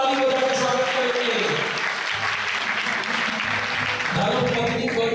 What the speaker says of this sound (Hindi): जोरदार ताली बजाकर स्वागत करेंगे